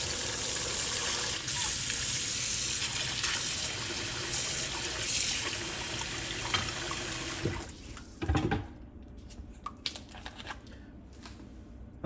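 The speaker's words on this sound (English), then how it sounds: "Going to wash it with cold water." Cold tap water runs steadily over raw chicken in a sink for several seconds, a loud continuous splashing gush that cuts off suddenly, leaving scattered clinks and quiet handling noises.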